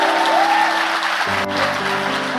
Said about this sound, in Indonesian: Beri tepuk tangan pada Tante.